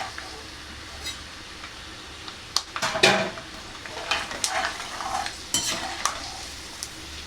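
Curry leaves frying in hot oil for kaaram boondhi, a soft crackling sizzle under clinks and scrapes of a utensil stirring in the pan, with sharper clatters partway through, close and fairly quiet.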